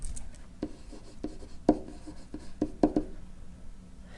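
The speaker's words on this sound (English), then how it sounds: "now I'm going to write that on there" Pen scratching out an answer on paper or a board during a related-rates cone problem, a few soft, scattered strokes and taps, close and fairly quiet with no talking.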